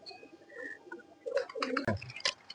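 Soft, low cooing of pigeons close by, with a few throaty bursts and rustling toward the end.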